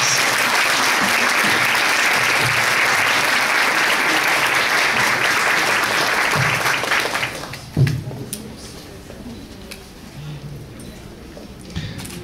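An event audience applauds a plaque presentation at a Kardec tribute gathering. The full, steady clapping fades out after several seconds, and a few scattered claps and low voices follow.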